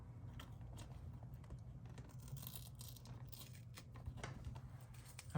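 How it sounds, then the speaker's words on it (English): A paper planner sheet torn out by hand, a close, crackly ripping sound of a few seconds, fairly quiet, with rustling and scraping along the way. "I'm just going to rip this actually, like so."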